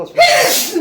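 A single sharp, close sneeze with a breathy burst, loud against a quiet background.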